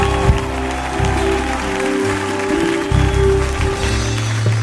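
A church congregation applauds, steady sustained clapping filling the space, with low music or murmur beneath it and no talk rising above the crowd.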